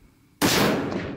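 A single loud, close 300 PRC rifle shot fired at a bowling pin about 15 to 20 yards away, a sharp blast followed by a long, heavy decay with nothing else heard.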